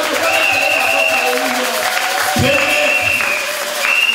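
A church congregation at a worship service in Aachen, Germany, applauds and acclaims God, a loud continuous wash of clapping and crowd noise with voices ringing through it.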